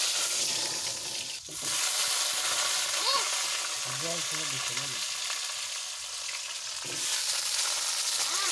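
Potato pieces frying in hot oil in a wok, a steady close sizzle running throughout with brief stirring scrapes and light clatter, and a short dip in the middle.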